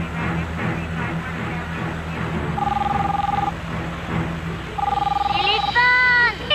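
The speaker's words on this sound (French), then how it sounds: "Téléphone! Décrochez le téléphone!" A telephone rings in two repeated electronic bursts under ongoing talk and a busy room, in a hostage standoff on a bus.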